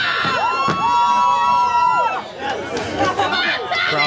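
A wrestling crowd at an indoor independent show cheers and shouts loudly and continuously, with whoops and children's voices mixed into the roar of chatter.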